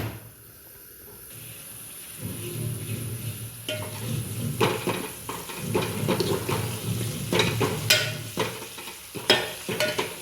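Sambharo vegetable relish stir-frying in a pan: a quiet start, then continuous sizzling with repeated scraping and stirring strokes against the pan.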